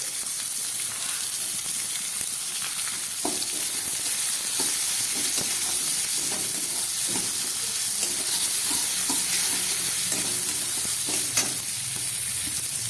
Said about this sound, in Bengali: এবার দিয়ে দিচ্ছি আমি কেটে রাখা পেঁয়াজ